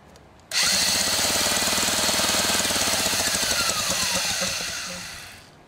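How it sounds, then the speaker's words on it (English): A half-inch Milwaukee power tool spins over a 15 HP Johnson outboard engine, starting abruptly into a loud, steady rapid rattling whir with rhythmic engine knocking, holding for about five seconds before winding down and stopping. "I'm going to spin it over with my half-inch Milwaukee here and I'll watch."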